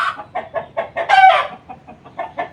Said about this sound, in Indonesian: ini adalah ayam yang saya pelihara, yaitu ayam berjenis Bangkok.